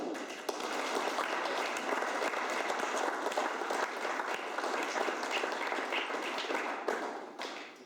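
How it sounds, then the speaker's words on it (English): Round of applause from an audience at a formal evening event honoring an outgoing president, steady dense clapping that holds for several seconds and thins out at the close. "Can we please have another round of applause?"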